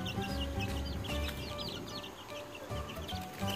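Backyard chickens cluck and murmur close by as they hunt for worms, with soft overlapping calls and a little background noise.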